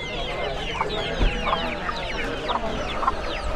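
Chickens cluck repeatedly at an outdoor livestock market in Sokuluk, a busy overlapping run of close, moderately loud clucks over steady market background noise.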